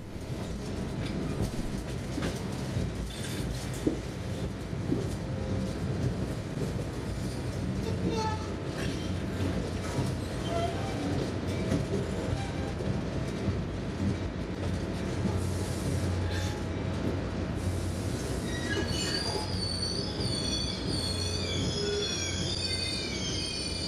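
A Caltrain diesel commuter train arriving at San Jose rumbles and clatters close by, wheels squealing high and shrill along the rails, with a hum of machinery throughout.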